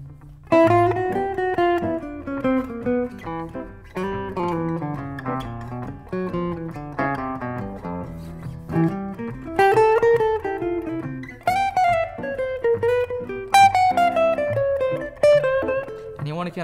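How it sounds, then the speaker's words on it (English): A guitar plays a bebop dominant scale in flowing melodic runs for the whole passage, fairly loud and close, with notes rising and falling continuously and no talking. "it also has elements of the bebop dominant scale, which sounds like this."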